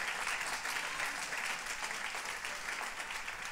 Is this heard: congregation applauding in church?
yes